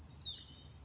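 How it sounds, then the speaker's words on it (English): Birds sing in a garden, one faint high call sweeping down and thin chirps over a low rumble of distant traffic. "so that you can hear the birds singing."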